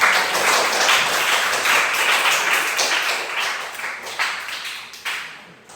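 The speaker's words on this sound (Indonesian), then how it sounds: "Mari kita tepuk tangan" A classroom of students applauds together, steady dense clapping that holds at an even level for several seconds before thinning out into a few last scattered claps.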